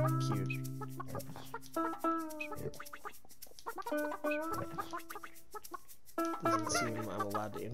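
A chicken in the video game Burly Men at Sea clucks in a steady run of short, bright, nasal calls with a few drawn-out squawks, loud and close, over a musical game backdrop.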